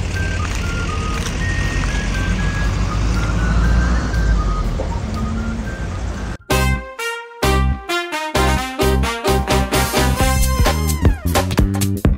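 A truck pulls out, and a rapid series of sharp, loud reversing-style beeps follows a steady engine and road rumble. No one speaks.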